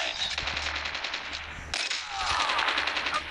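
Rapid automatic gunfire rattles in a Call of Duty multiplayer match, a fast, dense string of shots heard close and continuous, with a brief break partway through before the firing resumes.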